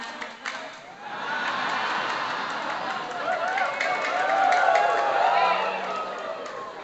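An audience claps hands together in a steady, sustained wash of applause, fairly loud, with some voices mixed in, at a Maulid Nabi religious gathering.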